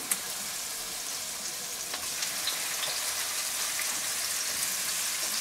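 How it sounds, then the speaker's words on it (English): Steady, dense sizzling of a pork chop searing in a hot pan, a continuous crackling hiss with small pops, close and moderately loud. "And we got the sizzle going, which is great."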